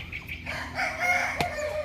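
A young rooster clucks and gives a short crow up close, loud and brief, with no talking over it.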